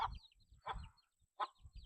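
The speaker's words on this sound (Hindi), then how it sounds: "वो देख यार कैसे मुर्गी आवाज मार मार के निकाल लिया भाई" A hen gives three short, separate clucks, fairly close, with brief quiet gaps between them.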